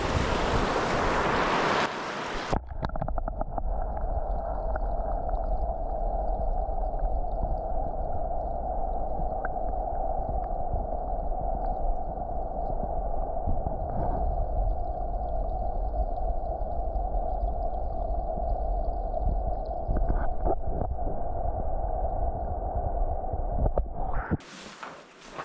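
A river running high with spring snowmelt, a steady broad rush of water close by that holds unbroken for about twenty seconds, with louder handling noise at the start and end.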